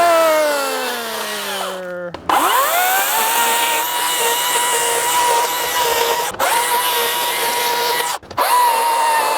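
A small Green Machine battery-powered chainsaw cutting down a whole tree: a steady, loud, high electric whine with a falling pitch as it bites into the wood, broken by a few brief stops before resuming.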